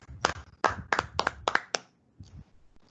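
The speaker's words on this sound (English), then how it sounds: "Scout claps go for Tiger Patrol and everyone." A scout troop gives a patterned scout clap for the Tiger Patrol at a group birthday gathering: a run of sharp, close hand claps in a quick rhythm, then a few fainter claps trailing off.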